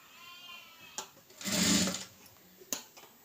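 A tailoring sewing machine runs a short burst of stitches on a blouse, making a close mechanical whir that swells and fades, set between a couple of sharp clicks from handling the fabric and machine.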